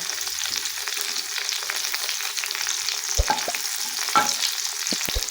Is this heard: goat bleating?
no